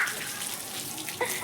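Steady splashing, pouring water runs throughout as someone bathes in cold water, with a few brighter spatters near the end; no talk is audible over it.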